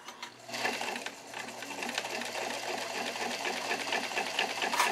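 A Singer 237 sewing machine runs with its covers off, a close, steady mechanical whir with a fast rhythmic clatter that holds at an even speed throughout, with no talking.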